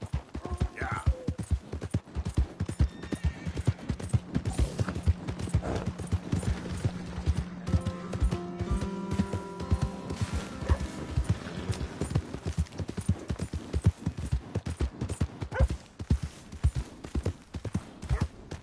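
Steady, rhythmic hoof clip-clops of a video game horse trotting along, close and continuous, with voices talking at times over the hoofbeats.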